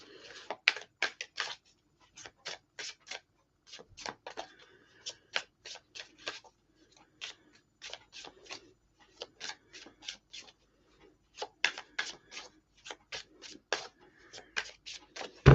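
Crisp rapid shuffling of tarot cards, riffling and snapping in repeated short bursts with brief pauses between them, close and clear with no talking.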